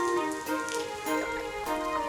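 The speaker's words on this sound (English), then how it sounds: "Oh, the rain has become quite heavy." Heavy cartoon rain falls in a steady, dense patter, with soft swells and a few brighter splashes, heard alone over a faint musical drone.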